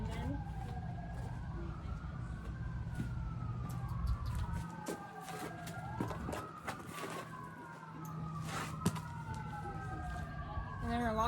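Several emergency vehicle sirens wail in the background, their rising and falling tones overlapping continuously over low traffic rumble, while a person speaks nearby.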